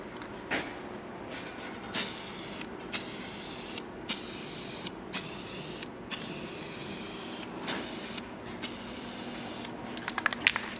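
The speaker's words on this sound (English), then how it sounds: "Yeah, we're just spray bombing this." Blue spray cans coat Yamaha Phazer snowmobile parts in a series of steady hissing bursts, each a couple of seconds long with short gaps between, close and fairly loud with no talking.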